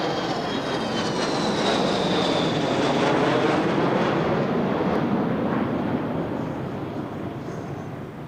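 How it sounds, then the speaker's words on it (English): A VC-10 and a Nimrod flying past together at the Royal International Air Tattoo, RAF Fairford, 1998, a broad, roaring jet-engine rush that swells and holds, then slowly fades as the aircraft pass, with no voices. "in this flypast, there was a VC-10 and a Nimrod, representing numbers 201 and 206 squadrons"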